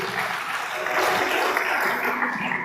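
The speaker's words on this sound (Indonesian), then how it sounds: "Tepuk tangan untuk Tuhan Yesus." A congregation at a church gathering applauds with a short, full burst of clapping lasting a few seconds.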